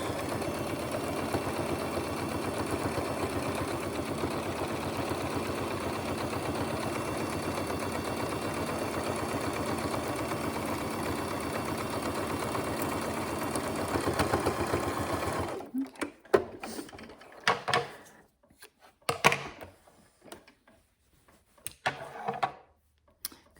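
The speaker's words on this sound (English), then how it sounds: "We're stitching right on the edge." A sewing machine stitching along the fabric edge of a zippered pouch, a steady close mechanical whir lasting about fifteen seconds, then stopping and giving way to scattered handling clicks and rustles.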